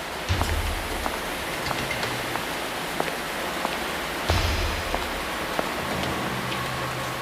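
Rain pours steadily in a dense, hissing wash, with occasional heavier drops pattering on a nearby surface and low bumps underneath.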